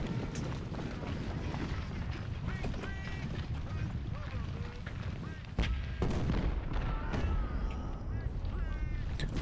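Cannon fire and battle noise in the Civil War strategy game Ultimate General: Civil War, dull booms and rumbling gunfire layered over a busy background din, with a louder burst partway through.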